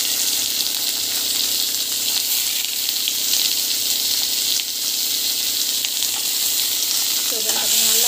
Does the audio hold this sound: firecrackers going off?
no